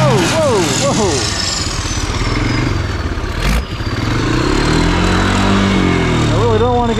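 Engine of the world's largest three-wheeler running loud and close during test laps, a steady rough roar with revving swells and a brief dip midway, voices shouting faintly over it.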